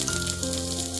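A brief, dense sizzle of chopped onions hitting hot oil, loud and close, with a steady hissing crackle throughout.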